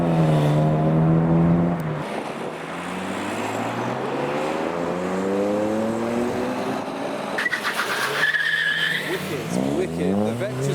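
A modified Mazda RX-8 leaving a car show revs hard through rising gear sweeps, tires squealing as it pulls away, with more engines revving nearby and voices in the background.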